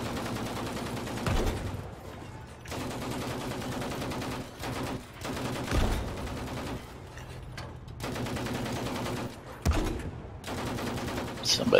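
Battlefield V gunfire rings out in repeated bursts across the whole stretch, loud and near, with sharp single shots standing out around the middle and toward the end, continuous battle noise filling the gaps and voices heard over it.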